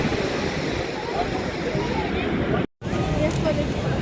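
Sea waves crash steadily onto Puri beach at night, a continuous loud roar of surf mixed with wind and distant crowd murmur, broken by a brief dropout near the end.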